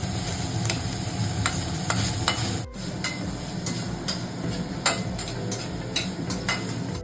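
Chicken mince fries in butter with ginger garlic paste in a wok, a steady loud sizzle with scraping stirs throughout and one sharp knock partway through; no one talks.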